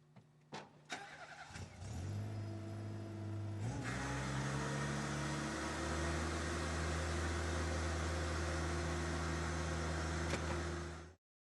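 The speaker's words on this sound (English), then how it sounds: "start your machine, and lower the hopper" An M20 floor scrubber runs with a steady, loud engine drone after a start-up around the two-second mark, a deeper hum settling in as the hopper lowers, continuous and unvoiced to the end.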